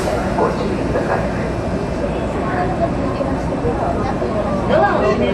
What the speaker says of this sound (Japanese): 4番線から電車が発車します。